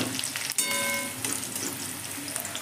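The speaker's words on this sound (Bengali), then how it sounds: "এই সময় আমি দিয়ে দিচ্ছি একটা মাঝারি সাইজের পেঁয়াজ কুচি কুচি করে কেটে" Chopped medium-sized onion hits a pan where garlic is already frying, with a loud steady sizzle, a sharp clink as it goes in, and stirring scrapes throughout.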